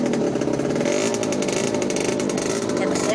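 A Skyteam motorcycle engine that is down on power runs steadily and close by, revving sluggishly with a constant rough mechanical drone throughout.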